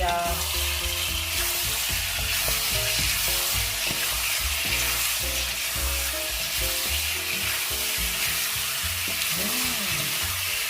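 Chicken liver sizzles and fries in a pan, crackling steadily throughout with scraping stirs and light clinks of a utensil, close and continuous, no talk.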